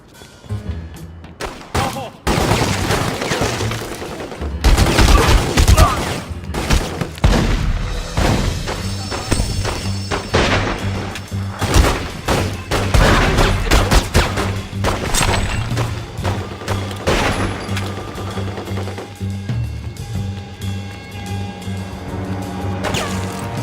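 Gunfire and heavy booms from the crime action video game My Only Father Is The Godfather II, dense and loud throughout with repeated sharp shots and crashes layered over game music and voices.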